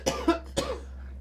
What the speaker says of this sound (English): And when she starts coughing,